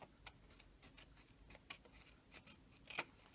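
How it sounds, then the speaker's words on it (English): Scissors snipping off overhanging paper edges while making a magnetic snowman bookmark, a few quiet, irregular cuts close by with one sharper snip near the end, no talking. "Now I'm just going to trim those bits that are hanging off the edge there, because I don't want those."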